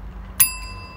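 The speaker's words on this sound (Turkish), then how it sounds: "Bir tane gong tuşuna sen basar mısın?" A gong sound-effect button pressed once in a home kitchen, giving a single sharp metallic strike that rings on with a long, steady tone over quiet room hum.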